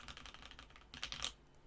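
Typing on a Ninja 87 Bluetooth mechanical keyboard with banana switches and GMK Monokai keycaps: a quick, even run of close, crisp keystrokes, then a brief denser flurry, with no talking.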